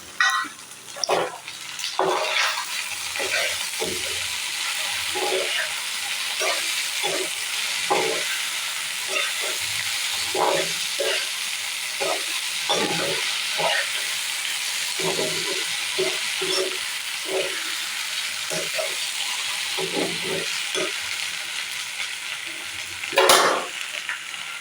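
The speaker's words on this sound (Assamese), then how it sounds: "প্ৰায় ভাজা হ'লে এতিয়া ঔটেঙা কেইটামান দি দিম" Fish fries in a pan as sliced elephant apple is added, giving steady sizzling with repeated stirring scrapes and bursts of crackle across the whole stretch, fairly loud and close.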